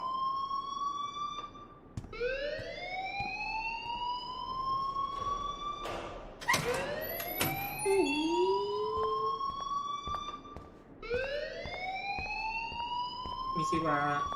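An alarm blares in the video game Life Is Strange, a rising siren-like whoop repeating every few seconds, loud and continuous with background noise throughout.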